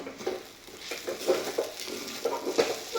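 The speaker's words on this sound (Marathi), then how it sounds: "आता पुन्हा एकदा आपण व्यवस्थित हे मिक्स करून घेऊया" A spoon stirring potatoes with peanuts in a pan, gentle repeated scraping strokes with a soft sizzle underneath, close and steady.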